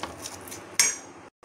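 A spoon clinks and scrapes against a pot while stirring beetroot chutney. The scraping is brief and close, with one sharper metallic clink near the end before it goes quiet.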